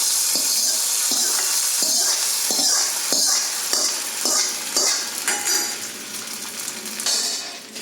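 A spoon clacks and scrapes as tempering is stirred into adai dosa batter in a vessel. The close, rhythmic strokes come about every half second, with a faint sizzle behind them.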